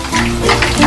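Crispy pata, a pork leg, deep-frying in a pot of hot oil, giving a steady close crackle and bubbling hiss that swells slightly toward the end, with no voices over it.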